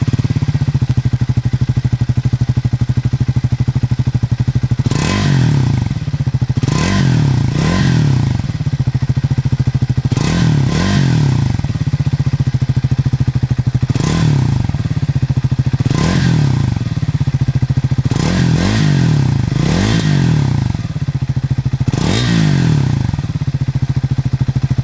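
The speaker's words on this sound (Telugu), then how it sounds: "ఈ బైక్ ఎగ్జాస్ట్ నోట్ ఎలా ఉందో ఒకసారి మనం అబ్జర్వ్ చేద్దాం." A Triumph Scrambler 400 XC idles with a loud, thumping exhaust, broken by about eight sharp throttle blips, each rising into a rev and dropping back to idle, recorded close with no talking.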